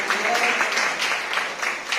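Audience applause at a church service, a steady clatter of clapping hands filling the room, moderately loud, with faint voices mixed in.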